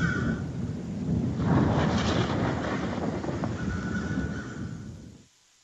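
Thunder from an approaching storm rolls as a broad, sustained rumble for several seconds, swelling slightly, then fading abruptly into silence.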